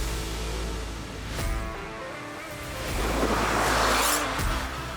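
A Renault Clio accelerates at full throttle in first gear with a steady, close engine drone that climbs in pitch, with road and wind noise building as the revs rise.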